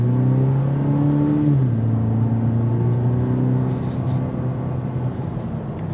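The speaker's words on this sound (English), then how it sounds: "The exhaust note filters in." A 2025 Cadillac CT4 Sport's low exhaust note hums steadily, dropping pitch as it shifts, then a rumbling drone continues close up with no talking.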